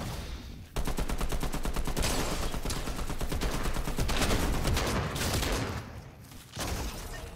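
Sustained automatic gunfire in Fortnite, a dense, loud rattle of rapid shots running for several seconds with brief dips, then resuming near the end.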